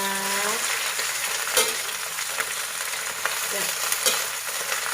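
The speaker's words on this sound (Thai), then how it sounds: "ทอดกระหล่ำปีน้ำปลานะคะ" Cabbage frying in hot oil with fish sauce, a loud, close, steady crackling sizzle with a few sharper spatters and scraping stirs; a brief tone sounds at the start.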